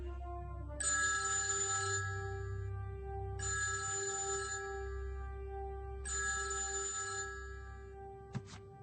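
A phone ringtone repeats in three evenly spaced bursts, each about a second long, moderately near over a low background hum and followed by a faint click.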